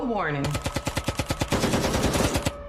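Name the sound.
gunfire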